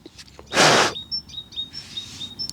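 Birds chirp outdoors in a field with repeated short, high tweets, while a loud rustling burst passes near the start.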